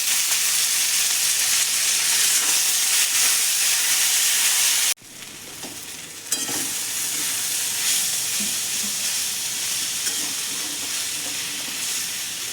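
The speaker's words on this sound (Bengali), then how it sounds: "এবারে বেগুনটা ভালো ভাজা ভাজা হয়ে গেছে, এর মধ্যে সজনে পাতা ভাজাটা" Eggplant and drumstick leaves frying in a pan give a steady loud sizzle with stirring, cut off by a brief near-silent break before the sizzling resumes.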